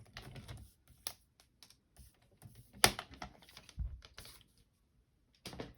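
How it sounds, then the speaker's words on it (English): Die cut paper scraps being cut while making shabby chic tags, heard as sparse, close, crisp snips and taps spaced irregularly, with quiet gaps between them and no voices. "just lining it up and cutting it."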